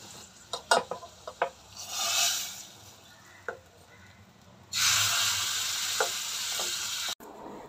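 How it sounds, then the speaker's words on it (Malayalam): Okra frying and being stirred in a pan over a high flame, with turmeric and chili powder added. Intermittent scrapes and clicks lead into a loud, steady sizzle that runs until a brief cut near the end, with no talking. "ഇത് ഞാൻ കുറേ നേരം ഹൈ ഫ്ലെയിമിലൊന്ന് വെണ്ടയ്ക്കയുടെ വലവലപ്പൊക്കെ പോകാൻ വേണ്ടി ചെയ്യുന്നുണ്ട്"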